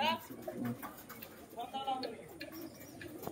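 Pigeons coo in a loft of high-flyer pigeons, soft repeated low calls close by, mixed with someone speaking over them for most of the moment.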